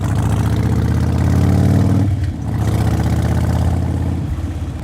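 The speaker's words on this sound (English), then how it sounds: "I'm sitting in traffic again" A car engine idling in traffic, a steady low rumble with a brief dip midway before settling back, close and continuous with no talking.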